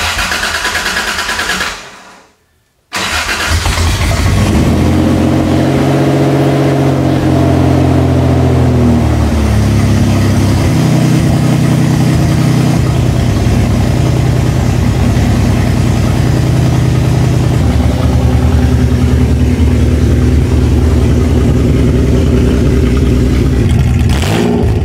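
Toyota 3.4L swapped engine cranking, catching after a brief pause, then settling into a loud, steady, smooth idle with occasional slight revs close by.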